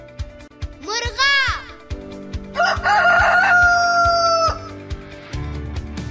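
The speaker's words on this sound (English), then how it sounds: "Cock, rooster." A rooster crows close and loud twice, with a long drawn-out call in the middle, among clucking fowl sounds, and a voice speaks briefly between the calls.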